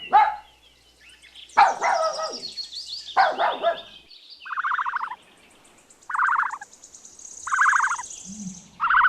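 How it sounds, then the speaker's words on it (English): A puppy gives a few high, short yips and barks, close and fairly loud, interspersed with brief chirping sounds and pauses. "puppy,"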